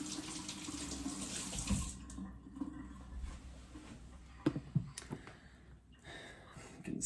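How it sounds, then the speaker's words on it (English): Tap water runs steadily into a sink, rinsing slurry off a Shapton Pro 1K whetstone during knife sharpening, a strong broadband rush in the first two seconds, then quieter trickling with a few clinks of the blade or stone. "I am going to wash this burr off,"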